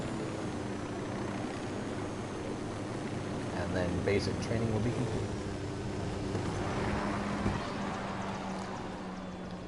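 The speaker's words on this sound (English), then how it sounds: "Operating a helicopter." Helicopter in the Ghost Recon Wildlands video game, a steady engine and rotor drone holding throughout while someone speaks over it.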